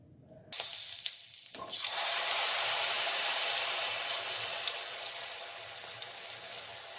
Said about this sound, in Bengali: মালপোয়া ভাজার জন্য পরিমাণ মতো তেল দিয়েছি। হাই টু লো আঁচে ভেজে নেব আমি।